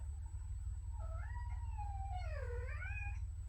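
A cat lets out a drawn-out, wavering meow that bends up and down in pitch, fairly faint over a steady low background hum, with no talk.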